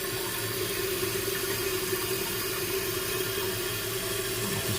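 A toilet tank refills after its fill valve has been replaced, water rushing in with a steady hiss and low gurgle that stays constant and close throughout.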